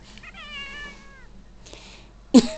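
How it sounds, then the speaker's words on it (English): A cat meows in a quiet room, a drawn-out meow near the start, a shorter one midway and a sharp, loud chirp near the end, all close by with no talking. "Beans, you're a bad kitty."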